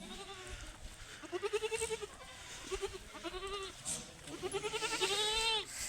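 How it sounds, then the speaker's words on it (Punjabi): A Saidoke bloodline goat bleats repeatedly in wavering, nasal calls, fairly close, with several cries in a row and some background noise between them. "ਬੱਕਰਾ ਵਿਖਾਈਏ ਹੁਣ ਆਪਾਂ ਬੱਕਰਾ ਵਿਖਾਓ"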